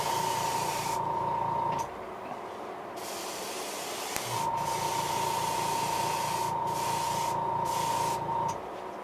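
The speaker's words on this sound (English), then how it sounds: "So we got our Iwata HPCS out today, and that's what we're using. We're running about 17 pounds of air pressure." Iwata HPCS airbrush spraying paint onto a fishing lure at about 17 psi, a steady close hiss in long bursts with a faint tonal whistle and brief breaks.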